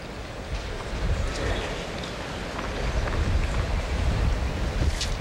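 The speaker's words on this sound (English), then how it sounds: "Gust of wind." A gust of wind buffets the microphone at an outdoor tennis final, a rough, roaring rumble that swells and stays loud for several seconds with no talk over it.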